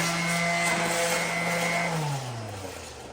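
An electric sander switched on by accident in a garage while a Cadillac is restored: a steady loud motor whine that holds for about two seconds, then drops in pitch as it winds down.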